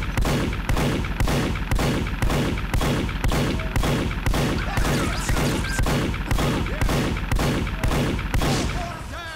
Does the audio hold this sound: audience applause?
no